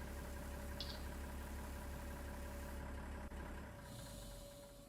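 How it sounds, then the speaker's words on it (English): Tractor engine in a farming video game, idling at a steady low drone close by, then cutting down near the end as it is switched off. "Yes, we can stop the engine on this one."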